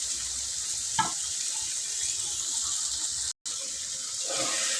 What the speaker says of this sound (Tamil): இப்போ நம்ம தக்காளி சேர்த்துக்குவோம். 2 தக்காளி. இதுவும் நல்லா வதங்கட்டும்.